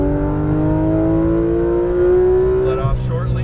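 A Porsche 911 GT3 RS on a race track, its engine note rising steadily as it accelerates in a close, loud in-car perspective, then shifting near the end with a brief change in pitch.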